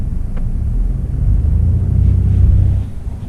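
A 2018 Mercedes-Benz E300's engine gives a deep, steady low rumble that swells slightly and then eases, heard close and alone with no talk.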